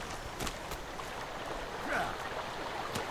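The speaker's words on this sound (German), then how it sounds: "Oh, ich höre Wasserfall." Steady, soft rushing of a waterfall in the video game Sons of the Forest, a faint continuous wash of water noise heard from a distance, with a person speaking over it.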